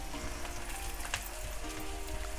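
Onion and garlic hit a hot pan, giving a steady crackling sizzle like light rain, close and continuous, with a faint clink partway through and no voices.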